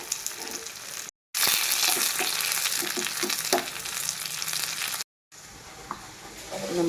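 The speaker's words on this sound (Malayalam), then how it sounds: "ഇനി അതിലേക്ക് കറിവേപ്പില ഇട്ട് ഒന്നുകൂടി മൂപ്പിച്ചെടുക്കാം." Curry leaves, onion and fenugreek frying in hot oil in a pan for an Alappuzha-style fish curry tempering, a loud close crackling sizzle with stirring scrapes, broken by two brief silent cuts.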